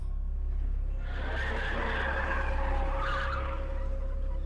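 A truck cab skidding to a screeching halt in a truck stop parking lot at night, a long harsh tire squeal over a deep engine rumble, loud and close, with no voices.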